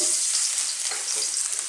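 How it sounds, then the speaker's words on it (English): Garlic drops into very hot oil in a wok and sizzles loudly, a dense, continuous crackling hiss close up with no voice over it. "Drop in a little bit of garlic"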